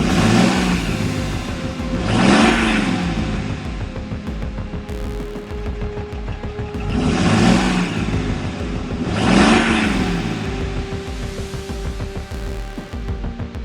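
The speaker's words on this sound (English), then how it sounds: "Engines scream into the darkness" Diesel truck engines rev hard in repeated surges, roaring up and fading about every few seconds over a steady mechanical drone, loud and close.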